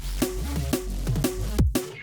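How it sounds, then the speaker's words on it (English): Polyrhythmic drum and bass track played with the master chain switched off: punchy kicks and snares hit on an offset, lurching pattern over a sustained low bass and pitched synth tones, loud and continuous with no talk. "It's like a polyrhythmic version of drum and bass"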